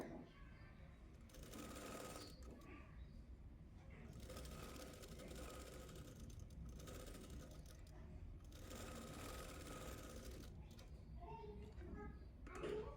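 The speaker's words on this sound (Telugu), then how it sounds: "నెక్స్ట్ డబల్ స్టిచ్ వేసుకోవాలి ఇంకొక కుట్టేసుకుంటున్నాను" A sewing machine stitches a blouse in fast, continuous whirring bursts, with short pauses between runs and a few faint clicks at the end.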